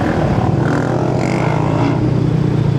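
A Yamaha NMAX motor scooter engine idles and runs steadily after an oil seal repair and cleaning, a loud continuous drone close by with no break and no speech.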